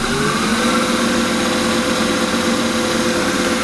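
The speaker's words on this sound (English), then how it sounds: "So try that first with the 3/8 spindle gouge." A wood lathe spins a pencil pot blank while a 3/8 spindle gouge cuts, giving a steady close, loud hum with faint tonal whine and no pauses or voices.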